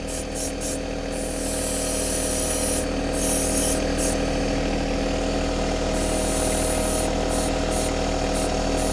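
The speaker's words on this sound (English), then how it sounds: "What I'm doing here now is I'm rolling the frame away and off of the tractor." A John Deere 260B backhoe frame rolls off a John Deere 1025R tractor with a steady grinding, rubbing rumble and an engine droning underneath, loud and continuous throughout.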